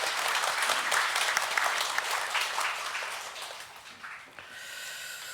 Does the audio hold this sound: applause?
yes